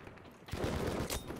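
Enemy gunfire in Battlefield V, a rapid burst of automatic shots breaking in after a quiet moment and rattling on for about a second, fairly faint and distant.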